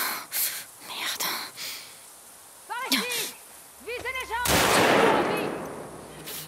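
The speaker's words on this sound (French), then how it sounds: "Pistolet silencieux." Suppressed pistol fire in the video game The Last of Us Part II: a few sharp, muffled pops spaced apart amid game sounds and a loud rushing burst, with a voice and whispers over them.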